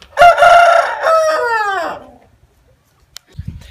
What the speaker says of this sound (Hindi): यहाँ पे जो है मुर्गा दे रहा है अजाने